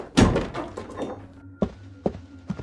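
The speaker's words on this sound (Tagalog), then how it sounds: "bago tuluyang lumabas at inilak ang pinto ng kwarto sa labas" A bedroom door shut and locked from outside, heard as a loud close thunk followed by several sharper knocks and clicks spaced over two seconds, fairly near.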